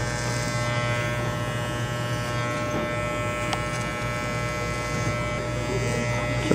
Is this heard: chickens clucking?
no